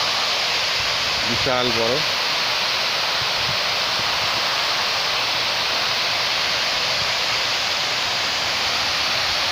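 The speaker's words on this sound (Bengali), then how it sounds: "এই জল পড়ছে, দেখাচ্ছি সামনে" Water falling inside the cooling tower of the Korba power plant makes a loud, dense, continuous roar. Someone speaks briefly near the start.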